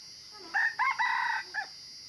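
A rooster crows once outdoors at moderate distance, a drawn-out cock-a-doodle-doo in several broken bursts, heard alone without talk.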